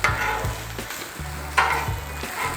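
Hash browns are stirred and scraped around on a hot Blackstone griddle, with repeated spatula scrapes over a steady sizzle, close and clear, and no voices.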